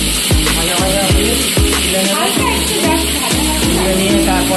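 Fish frying together in hot oil in a home kitchen pan, a steady loud sizzle with repeated stirring scrapes and clinks throughout.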